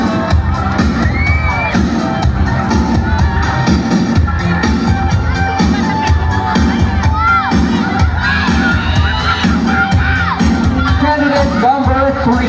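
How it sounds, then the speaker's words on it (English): A large crowd at a public market pageant cheers and shouts for a candidate, with children's yells and whoops rising over a dense, loud, continuous roar. "let's cheer for candidate number"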